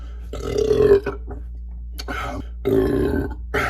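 Three close, loud belches come in separate bursts, the first and longest lasting about half a second, with a short grunt-like sound between them and a quiet room behind.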